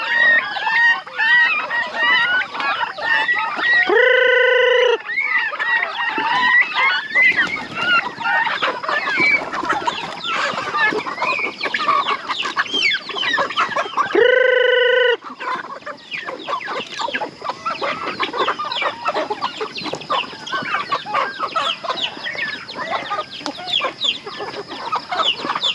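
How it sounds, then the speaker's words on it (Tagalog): Chickens and turkeys on a farm cluck and call continuously, several birds overlapping close by, with a couple of louder honking calls standing out above the flock's chatter. "Mga manok at pabo natin."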